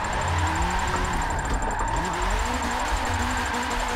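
A Porsche drift car in a racing video game roars with its engine steadily revving, pitch shifting as it downshifts and the clutch is kicked, the engine note loud and continuous throughout.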